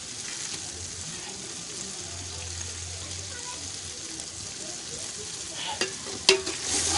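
Red chili and garlic-ginger paste mixed into a large pot for mutton, a continuous frying hiss with scraping stirs and a few louder clanks toward the end.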